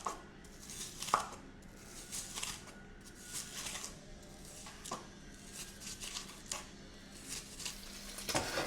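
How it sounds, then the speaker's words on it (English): Knife thinly slicing a quarter of an onion while prepping homemade beef chow mein: quiet, irregular crisp cuts on a board, some sharper taps, close up with no talking. "I'm only going to use about 1/4 of this onion, and we're going to slice it very thinly."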